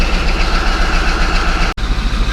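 A Caterpillar D11 bulldozer engine running under load with the brake on and in gear, a loud steady heavy diesel drone with one brief dropout, close by and with no speech.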